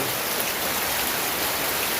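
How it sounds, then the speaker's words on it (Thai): Rain falls steadily on a forest ranger station in Thailand's Nam Tok Sam Lan National Park, a dense, even hiss of drops close by, with no voices. "มาพร้อมกับฝนเลย"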